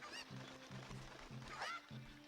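Cucco chickens cluck and squawk in The Legend of Zelda: Ocarina of Time, short repeated game calls set over a looping tonal music bed, quiet and with no talking.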